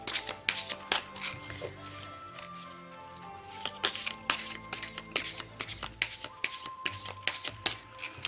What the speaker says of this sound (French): ici je tire 3 cartes avec l'oracle